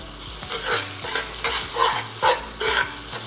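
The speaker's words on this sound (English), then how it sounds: "you want to make sure it starts to fry the rice. And you'll hear the popping at the bottom" Rice sizzles and pops steadily in a hot pan while frying for egg fried rice, with rhythmic stirring scrapes every half second or so, close and moderately loud.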